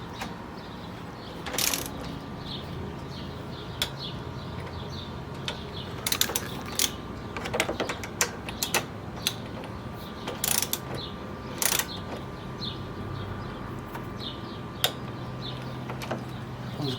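A ratchet clicks as it tightens the A/C condenser bolts on a 10th-generation Honda Civic, irregular bursts of close, crisp clicking scattered across a quiet workshop background.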